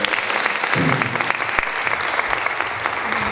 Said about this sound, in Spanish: otro aplauso también para los 3 profesores